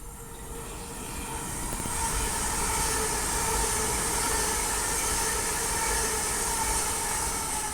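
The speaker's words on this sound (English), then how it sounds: "the next train to be coming through will be an Avanti West Coast Avero running from Liverpool" An Avanti West Coast Avero passenger train from Liverpool Lime Street to London Euston runs through Stafford station on the West Coast Main Line with a steady, loud, sustained rumble and a rising whine that holds for several seconds.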